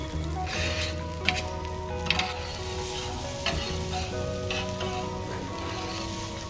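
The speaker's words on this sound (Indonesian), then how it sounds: "Selain pilihan telur, ada nasi goreng juga loh yang dimasak langsung." Fried rice and eggs sizzle at a hotel's live cooking station, a constant close frying hiss punctuated by a few sharp clanks of a utensil against the pan, over a faint background hum.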